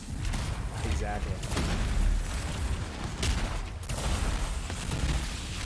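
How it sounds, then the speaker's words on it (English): Heavy explosions from the Colossus in a PS4 video game boom in repeated broadband bursts over a constant battle din, heard under ongoing talk. "You see all these explosions?"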